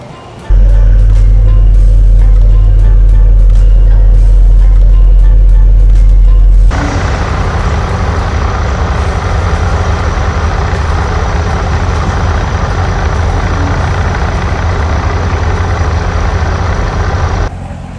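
A supercharged Callaway C7 Corvette Z06 pulls out, first a loud low idle rumble, then a broader, steady engine roar that holds close and strong until it drops away at the end.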